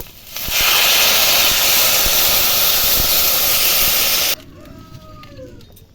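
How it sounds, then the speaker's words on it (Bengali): Fish curry broth with papaya boils hard in a pan, a loud, steady steam-laden hiss that cuts off abruptly, leaving quiet bubbling and faint kitchen sounds. "ঝোলটা ফুটে গেছে এবার মাছ দেব"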